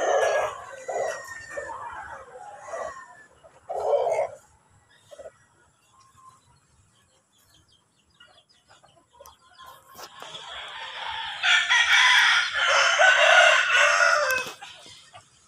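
Backyard chickens clucking in short bursts early on, followed by a rooster's loud, drawn-out crow near the end, in a quiet rural woodland setting.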